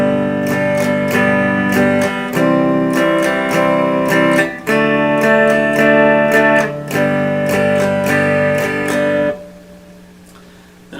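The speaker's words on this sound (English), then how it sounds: "Now let's go ahead and take a look at a few real strumming patterns." Strummed acoustic guitar chords repeat a lively rhythm over several bars, close and loud, ending with a soft fading ring.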